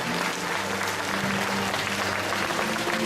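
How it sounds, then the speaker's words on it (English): Crowd applause at an outdoor falcon flying show at SeaWorld San Antonio, a dense, steady roar of many clapping hands heard from amid the audience. "let's give this falcon a round of applause"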